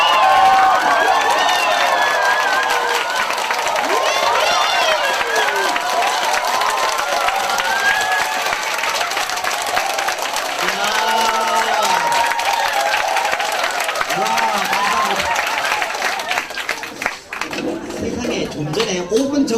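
A seminar audience of cancer patients in a laughter-therapy session bursts into loud, sustained applause mixed with whoops and cheering voices, dense and close, continuing for many seconds before tapering near the end.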